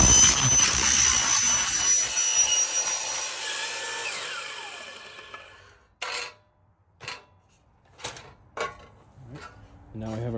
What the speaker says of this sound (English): And that is how you use the saw.